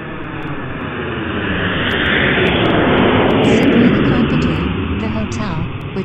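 An airplane flying low over a cheap hotel near Camden County Regional Airport by the Florida-Georgia state line: a loud, steady roar that swells to a peak midway and then slowly eases, filling the whole stretch.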